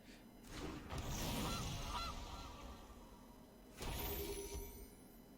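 A cartoonish goose honk effect from the MTG Arena card game sounds twice, a loud honking burst near the start and another toward the end, over a steady bed of game noise.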